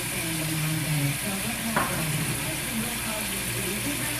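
Minced onions cook in a pan with a steady, dense sizzle and a low hum underneath, close and continuous, with a brief scrape partway through.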